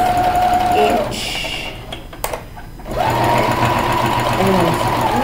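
A sewing machine stitches through about eight thick layers of fabric scraps at a quarter-inch seam, buzzing steadily at the start and after a brief pause in the middle, loud and close.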